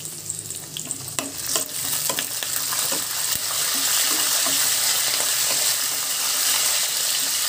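Dried red chillies, green chillies and curry leaves sizzle in hot tempering oil for mango pulihora, a close, dense crackling hiss with sharp pops and occasional stirring, growing louder and steadier, with no talking.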